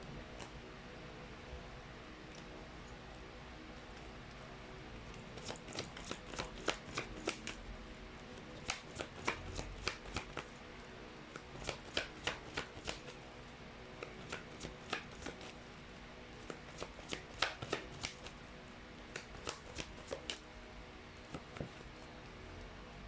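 Tarot cards being shuffled by hand in bursts of rapid riffling flutters that come and go over a steady background, close and fairly quiet, with no talking.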